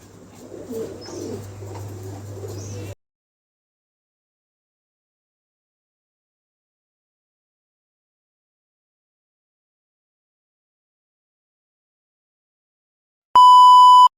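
Pigeons coo softly in a low, murmuring burst, followed by long silence and then a sharp electronic beep.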